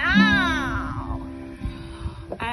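A voice imitates a cat in a children's song, singing one drawn-out falling meow up close, followed by quieter background sounds and a short sound at the end.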